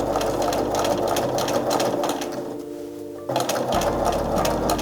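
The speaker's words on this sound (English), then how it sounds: "I'm going to sew it now." A sewing machine stitches a skirt with a loud, fast, steady mechanical whir close by. The stitching pauses briefly, then resumes at the same rate.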